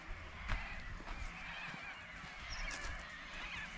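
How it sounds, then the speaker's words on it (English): Flocks of birds roosting for the evening in outback Birdsville, Queensland, make faint, distant honking and squawking calls that overlap continuously. "You hear all the birds roosting"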